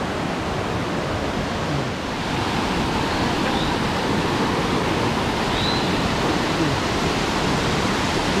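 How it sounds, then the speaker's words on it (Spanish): Waterfall cascades among river pools in San Carlos, Antioquia, a steady, full rushing roar of falling water, close and constant without pause. "hermosas estas cascadas que encontramos acá en San Carlos, Antioquia"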